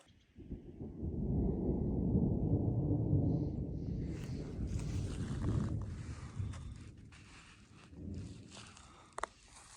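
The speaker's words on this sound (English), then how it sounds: "Thunder's getting kind of crazy from this thing. It's like pretty much constant. Doesn't stop rumbling at all." Thunder rumbling during light rain on a remote hike, a deep sustained roll building and fading over several seconds, followed by softer crackly ambient noise and a sharp tap near the end.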